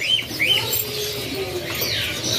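Magpie-robins kept in stock at a bird kiosk give short, scattered chirps and bright whistles over a low background hum, in a brief lively burst.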